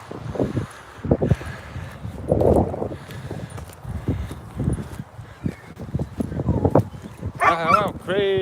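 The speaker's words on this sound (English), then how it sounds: "Oh, crazy dog!" A dog on a walk barks repeatedly in irregular bursts, loud and close, with a higher whining yelp near the end and voices faintly mixed in.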